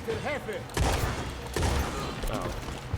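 Shotgun blasts in the Western video game Red Dead Online during a legendary bounty hunt, two heavy booming shots about a second apart standing out over a busy game soundscape, with talking mixed in.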